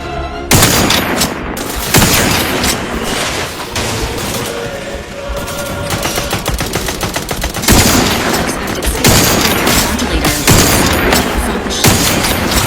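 Dense, loud bursts of gunfire fill the scene in the video game The Outer Worlds 2, with heavy volleys and booming impacts repeating almost nonstop and barely easing throughout.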